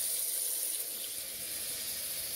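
Lukewarm water runs from a tap while thick hair is rinsed at home, a steady, close hiss of flowing water with a constant high wash and no speech.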